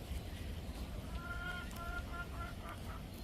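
A white rooster gives a short run of soft clucks and honk-like calls, faint and somewhat distant, over a low background rumble.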